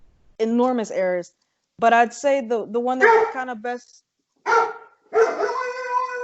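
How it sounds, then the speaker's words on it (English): A dog barks in the background during a podcast interview, with several sharp barks breaking in between and over a person talking steadily nearby. "That's a dog."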